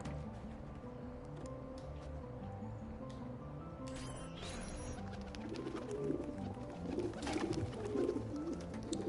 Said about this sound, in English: Here's the pigeon coop.